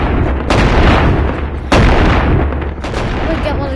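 Shotguns firing in the video game Animal Company, with three loud, heavy blasts spaced about a second apart, each trailing into a rumbling tail.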